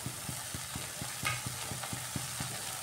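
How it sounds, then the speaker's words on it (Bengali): Boiled potatoes tossed into sizzling spice masala in oil and stirred, a soft steady frying hiss with regular scraping strokes of a spoon against the pan, close and even, no voices. "সিদ্ধ করে রাখা আলুটা আমি এর মধ্যে দিয়ে দিচ্ছি।"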